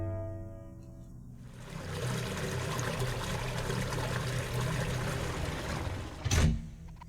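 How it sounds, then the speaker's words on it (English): Water rushes and pours steadily in a video game as it is pumped through, a continuous watery wash under game ambience that ends in a short, louder splash or thud near the finish. "The water just got pumped."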